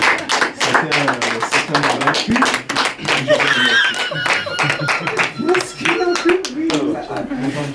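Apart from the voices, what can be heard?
audience clapping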